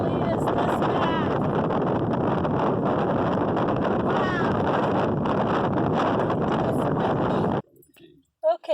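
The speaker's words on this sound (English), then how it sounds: "this is the Wyoming wind. Yes, it really is this bad." Strong Wyoming wind roars against the microphone in a loud, steady buffeting rush that holds for about seven and a half seconds, then cuts off abruptly, leaving brief faint sounds.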